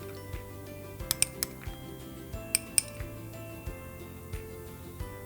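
Glass and metal clinks from stirring an essential oil perfume blend in a glass container, a dozen or so light, sharp taps scattered irregularly, close and fairly quiet with no talking.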